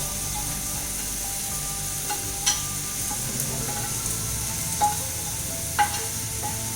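Ground spices such as jeera and dhania powder sauté in a pan, a steady even sizzle close by, with a few sharp clicks of a spoon against the metal and no talk.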